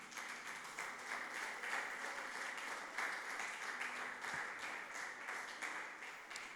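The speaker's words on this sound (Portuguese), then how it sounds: "Você pode dar uma salva de palmas para Jesus?" Congregation applause at a church service, a steady, dense wash of clapping held at moderate level throughout with no voices over it.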